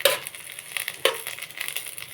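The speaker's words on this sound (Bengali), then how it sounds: "রসুনগুলো বেশ ভালো করে ভাজা হয়ে গেছে।" Garlic cloves fry in a pan with onion while cooking for a bottle gourd leaf paste, giving a steady close sizzle broken by a few sharper crackles and stirring scrapes.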